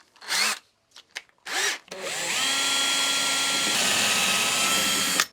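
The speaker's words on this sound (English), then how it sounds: "so I think that's about an 8mm drill bit" A power drill fitted with an 8mm bit bores into wood for a coffee table made from real wood flooring, its loud steady whine running unbroken for several seconds after a few short knocks and rustles.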